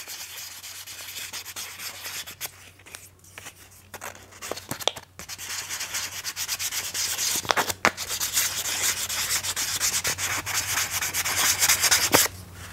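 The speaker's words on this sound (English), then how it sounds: "Then I use some sandpaper to clean up the ends we just cut off." Sandpaper rubbing the freshly cut ends of a lathe-turned wooden honey dipper, a continuous close scratchy hiss with brief pauses and a few sharp ticks.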